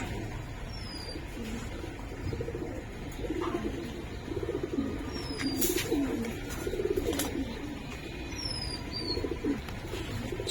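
Low, soft coos of a male pigeon repeat in a gentle rhythm, with a few thin bird chirps above and a quiet room background in a pigeon loft.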